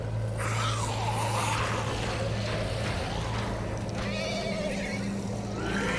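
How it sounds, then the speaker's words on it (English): Horses neighing and whinnying in the video game The Walking Dead: The New Frontier, several shrill calls rising over a steady low rumble and background commotion, fairly faint. "What's going on with those horses?"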